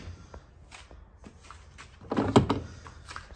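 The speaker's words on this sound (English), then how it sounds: "Shut the door." A Teco 9kg washing machine door is pushed shut, preceded by light handling and rustling, then a closer thud and clatter of the door closing, moderately loud with no talking.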